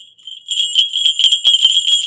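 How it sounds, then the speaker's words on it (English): A pair of Pakistani acorn-style falconry bells jingle rapidly and brightly, a continuous shimmering tinkle close by after a brief quiet start. "an authentic pair of Pakistani acorn falconry bells"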